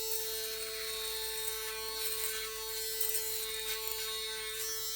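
Panasonic ES-LT4B 700 Series electric shaver running while shaving, a steady close high-pitched motor hum with a thin buzzing tone and light crackling of cut stubble, continuous throughout.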